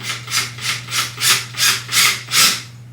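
Seven rhythmic bursts of grinding, rasping noise as a drill bores a pilot hole in wood, evenly spaced about every third of a second, over a steady low hum; no voices.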